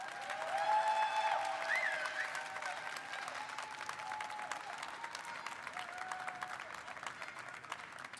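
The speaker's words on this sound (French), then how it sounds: "Je vous demande d'applaudir très fort Tot, le fondateur d'Ankama." A convention stage audience applauds a company founder, sustained clapping from a large crowd heard at some distance, with cheers or whistles rising briefly above the steady patter.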